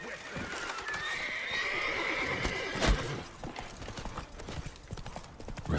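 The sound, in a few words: horse Roach neighing, from video game The Witcher 3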